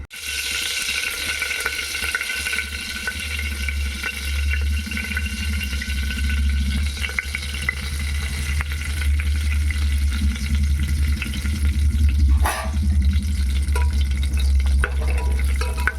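Oil and dalia (cracked wheat) going into a pressure cooker for khichdi, giving a steady close-up sizzle and frying hiss with some stirring scrapes and watery bubbling, continuous throughout with no talk.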